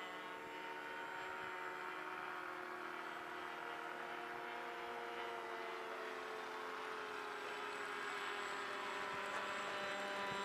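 A model aircraft engine, the MANTIS, droning steadily as it comes in to land, a faint, even whine held for the whole stretch with no talk.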